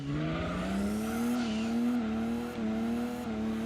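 Race car tyres squealing in Gran Turismo 2 on PlayStation during an endurance race at Grand Valley, a steady engine drone with a sustained tonal tyre whine that rises slightly in pitch, close and continuous, with no speech.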